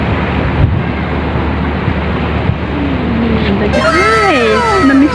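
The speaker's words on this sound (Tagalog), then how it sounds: "Dagat na yan." Surf rolls in with a steady rush onto the shore at the Mall of Asia bay area in the Philippines under gusty wind noise, and birds or whistles chirp near the end.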